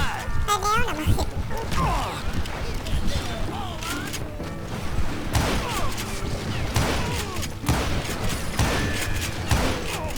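Crossfire gunshots in the video game Call of Juarez Gunslinger, repeated sharp shots and impacts spread irregularly across a busy battle mix, with a voice talking throughout.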